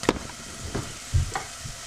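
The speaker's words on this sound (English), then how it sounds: "you've got to keep stirring those, otherwise they stick to the pan" Chopped onions and garlic frying with aubergine in a pan while being stirred for tomato mozzarella pasta, giving a few brief close scrapes and soft sizzling bursts over quiet background.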